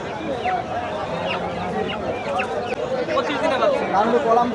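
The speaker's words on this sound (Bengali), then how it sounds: "এই পাশে মুরগির বাচ্চা বিক্রি হচ্ছে একের পর এক" Young chicks, about 25 days old, chirp in a dense, continuous chorus at a crowded open-air pet market near Kolkata, with steady crowd chatter and voices underneath.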